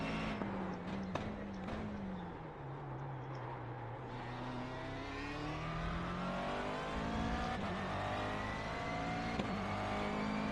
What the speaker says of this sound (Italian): suono del motore è abbastanza interessante